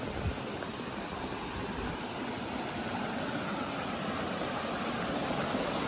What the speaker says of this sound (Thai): ให้พี่เนี่ยได้ฟังเสียงน้ำกันนะครับ